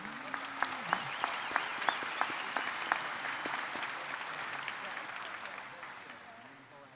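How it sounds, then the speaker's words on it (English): A commencement crowd at UNLV's 2017 winter ceremony applauds the Regents and system officials: dense, broad clapping that fills a large hall, with a few sharp claps standing out early, then slowly fading away. "Please join me in a round of applause for our Regents and our NC System officials"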